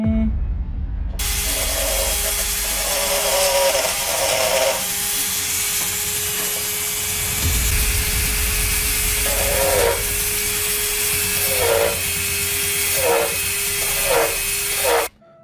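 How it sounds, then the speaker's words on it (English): A hand file rasps at a drilled hole in the plastic case of an original NES console, producing steady close scraping strokes that turn into shorter, rhythmic back-and-forth passes toward the end, with a faint constant hum beneath. "I will drill a hole and then adjust it with files."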